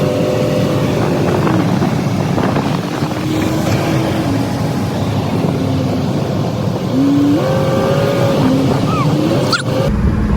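A 1969 Dodge Polara's Mopar big block engine runs with a steady, loud, rough rumble, close by and constant throughout. Wind buffets the microphone, and voices talk briefly underneath.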